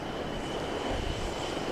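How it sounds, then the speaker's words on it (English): An RAF jet's engines run steadily before take-off, carrying the King and Queen Consort back to London, a loud continuous broadband roar with a faint high whine held throughout, no talk. "And there it is, that RAF jet"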